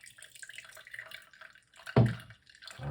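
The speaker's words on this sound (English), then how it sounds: "we're gonna run it through our strainer just like this" Juice drips through a strainer, a faint trickle with scattered small drips and one sharper splash near the end, close and otherwise quiet.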